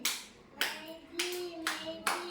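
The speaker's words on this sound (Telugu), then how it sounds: "క్లాప్స్ కొట్టుకోడు అందరూ ఒకసారి బాగా" Children at an anganwadi balance game clap together in several bursts of hand claps, with brief voices between rounds.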